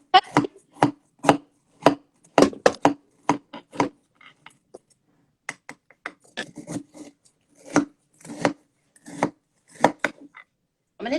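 A knife cutting through frozen watermelon coconut sorbet, a series of crisp scraping chops in irregular bursts, close and clear with short pauses between strokes.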